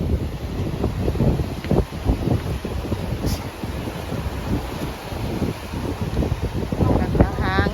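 Strong wind at a resort with nipa-roofed huts buffets the microphone in a continuous loud roar and gusts, with voices talking faintly in the background.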